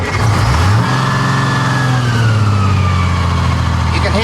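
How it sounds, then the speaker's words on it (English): A supercharged classic military vehicle engine starts with a low rumble and settles into a loud, steady run close by, the supercharger whine rising and falling above the engine tone. "can hear that supercharger going"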